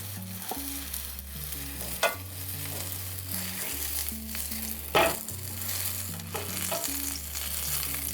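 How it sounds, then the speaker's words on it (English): Schnitzel fries in hot oil in a pan, a steady close sizzle and crackle with occasional scrapes and knocks as it is moved, under a repeating low background hum and no talk. "Yep, it's pretty much frying the schnitzel"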